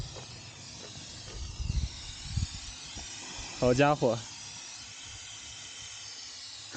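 Steam hisses steadily from the boiling radiator of a car that overheated climbing a 5,000-metre mountain pass, a constant close hiss with brief exclamations from a man over it.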